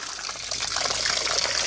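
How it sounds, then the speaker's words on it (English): Water rushes steadily through leaves piled on a gutter strainer, a close, continuous splashing trickle with no voices over it. "I can fill it up and water will always flow through the leaves"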